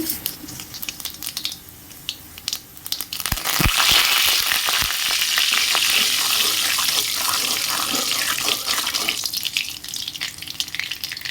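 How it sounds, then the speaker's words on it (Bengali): Nigella seeds tempering in hot oil for a Bengali ridge gourd mash, a loud steady hissing sizzle with sputtering crackles and a few sharp clatters of stirring, continuous with no talk. "দেখো ওই তেলের মধ্যেই কালো জিরে ফোড়ন দিয়ে দেবো"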